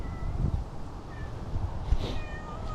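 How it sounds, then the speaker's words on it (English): A cat gives a few soft meows, faint against steady background noise, with no talking. "And here's the other cat."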